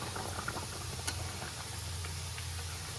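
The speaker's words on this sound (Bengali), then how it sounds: "মাংসের ঝোলটা ফুটে আছে।" Meat curry broth boils steadily in a pot on the stove, a close, continuous bubbling with faint ticks and pops, heard alone without talk.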